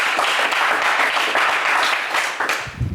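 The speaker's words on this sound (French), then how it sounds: "on vous applaudit quand même très fort." A television game-show studio audience claps hard in a thick, unbroken wash of applause that stays loud for the whole moment.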